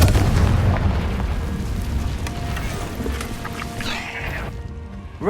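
In the Hogwarts Legacy video game, a Confringo spell explodes with a loud, booming blast that decays into a rumbling, crackling wash with a brief whoosh near the end.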